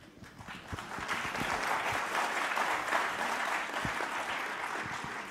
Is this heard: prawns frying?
no